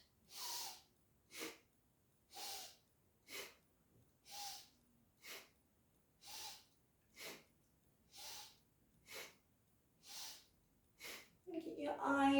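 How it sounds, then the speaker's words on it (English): Slow, deep breaths in and out during a relaxation exercise focused on the throat, about a dozen breathy puffs in an even rhythm, close and soft, with a brief burst of other sound at the very end. "Breathing in and out."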